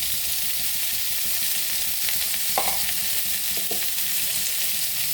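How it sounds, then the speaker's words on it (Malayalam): Onion, green chili, ginger and curry leaves sizzle steadily in a hot pan for a potato bhaji filling for masala dosa, with a few soft scraping stirs breaking through the constant frying hiss. "കറിവേപ്പില ഇതൊന്ന് വഴറ്റി കൊടുക്കാം."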